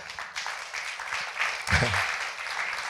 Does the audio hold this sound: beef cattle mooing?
no